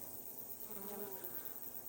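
Bees buzz at a beehive, a soft, steady insect drone with a brief nearer pass, faint and without voices.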